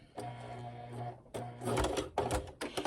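A sewing machine stitches an eighth-inch seam on a potholder in two bursts of steady mechanical whirring, the first about a second long, then a brief pause before a louder, rougher stretch of stitching. No one speaks.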